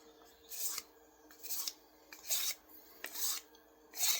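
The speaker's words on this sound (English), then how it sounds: "I'm gonna strop" A knife edge is stropped in rhythmic passes, each stroke a short dry rasping swipe, about six strokes spaced roughly every half second, close and fairly quiet with no talking.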